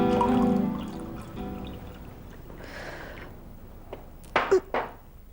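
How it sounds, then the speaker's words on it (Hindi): Water is poured and then drunk, heard as a soft, hushed pouring wash followed by a few short sharp clunks and gulping sounds near the end, faint under quiet background music. "क्या बात है, बहुत पानी पी रही हो आज?"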